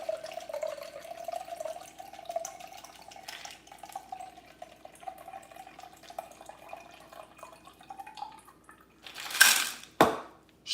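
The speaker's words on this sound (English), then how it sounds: "then we shall pour out our lovely, beautiful, amazing" A New York sour cocktail pours steadily into a glass for about eight seconds, a thin liquid stream, followed by a couple of sharper glass or bottle clinks near the end.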